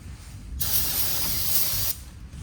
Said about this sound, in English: normally I would just clean this pretty good, real quick with brake cleaner.